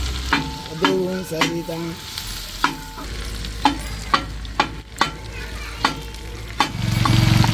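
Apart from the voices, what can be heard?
meal maker soya chunks frying in butter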